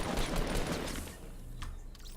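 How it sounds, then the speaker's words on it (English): Gunfire in Fortnite, a rapid burst of shots blurring together at first, then a few scattered fainter cracks at moderate loudness. "So while Joe is shooting things"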